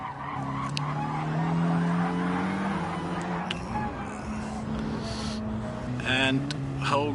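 Race car skidding and losing control on the Interlagos circuit in a WTCC touring car racing video game, engine whine and tyre scrub running continuously and loud under a commentator's voice.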